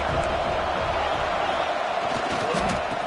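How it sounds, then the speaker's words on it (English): Crowd at a college football stadium during a Miami vs LSU game, a dense, steady roar of cheering voices that fills the whole clip without break, loud and continuous. "Listen to the crowd energy here in the early going. This is a tough environment for visitors."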